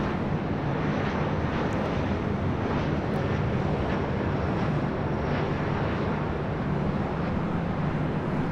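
A SkyWest-operated Delta Connection Embraer E175 jet airliner arriving at LAX makes a steady, broad engine roar, constant and moderately loud, with wind noise on the microphone and no talking.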